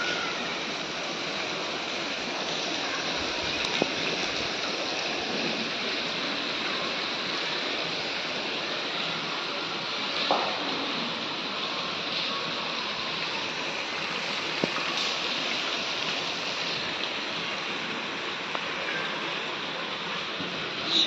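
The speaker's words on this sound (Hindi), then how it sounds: "बारिश पड़ रही है यहाँ तक।" Steady, dense hiss of heavy rain pouring down continuously, with a few faint clicks and knocks scattered through it.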